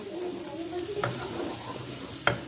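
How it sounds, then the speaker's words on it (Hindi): Chicken necks fry in a pan with a soft, steady sizzle, stirred now and then with a couple of sharp utensil clinks against the pan, heard close. "इतना भुनेंगे जो हमारे इसमें चिकन बहुत अच्छे से, गर्दने बहुत अच्छे से इसमें भुन जाए"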